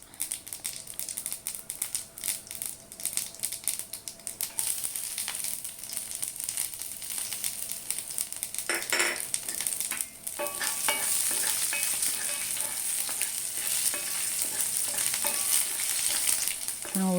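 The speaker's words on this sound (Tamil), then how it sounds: "இது கொஞ்சம் நல்லா பொரி பொரிஞ்சு வந்த பிறகு பூண்டு சேர்த்துக்கலாம்" Spices splutter and roast in a pan for okra masala curry, a steady close crackling sizzle with stirring scrapes, a burst of popping near the middle and a brighter, louder hiss in the final stretch.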